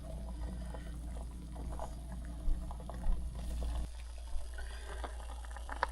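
Butternut squash boiling in a pot of water, a soft continuous bubbling and simmering with a few brief louder bumps, no voices.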